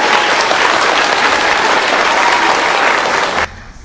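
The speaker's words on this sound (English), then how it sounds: "I'd just like to give a huge round of applause to Celine and Julia" Loud, dense applause from a concert audience, sustained for several seconds before cutting off abruptly near the end.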